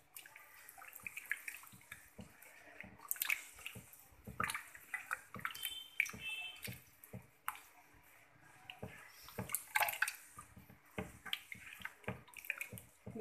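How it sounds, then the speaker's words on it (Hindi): Water is poured into a cooking mixture of ingredients and oil for a Konkani-style Maharashtrian zunka, with soft irregular splashing and trickling up close, fairly quiet, with no talk. "इसमें 1 कप पानी लेंगे"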